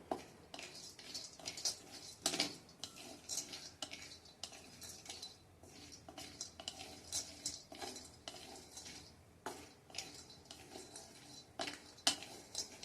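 Cashew pieces roasted in a pan while being stirred, with soft scraping and light clinks of the spoon against the pan, irregular and fairly quiet, with no voices.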